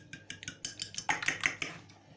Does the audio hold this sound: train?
no